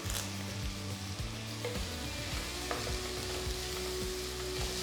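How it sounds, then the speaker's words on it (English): Finely chopped onions with green chilies and curry leaves sizzle and crackle in hot oil for a crab curry, a soft continuous frying hiss broken by light stirring scrapes, with no voices. "saute the onions till they're a nice golden brown color"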